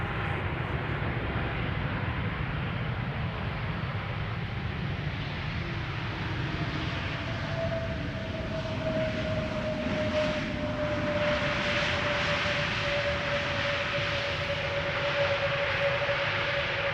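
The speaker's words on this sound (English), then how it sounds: "This is JetBlue arriving from Boston" A JetBlue jet arriving from Boston on approach to Amsterdam Schiphol gives a steady distant roar with a rising engine whine, continuous against broad background noise.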